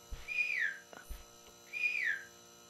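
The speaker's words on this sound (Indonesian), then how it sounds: "Pencet G, guys. Siul dia." A game character in the horror game Inside the Backrooms whistles two rising-falling tones, each about half a second, separated by a short pause with faint clicks and a low hum, heard alone at close range.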